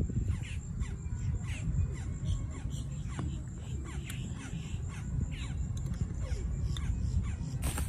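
Outdoors at a picnic, crows caw loudly and repeatedly over a constant rumbling background, with several birds calling in overlapping bursts across the whole stretch and no voices.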